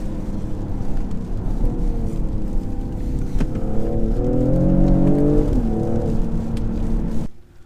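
Engine of a 2020 Mercedes GLE53 AMG SUV pulling hard from inside the cabin, a steady loud drone that climbs in pitch through the gears before cutting off abruptly at the end.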